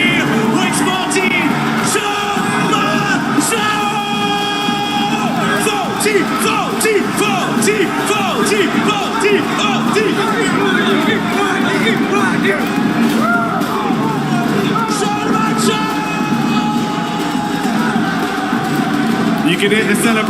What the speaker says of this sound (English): You can hear the celebration in the arena.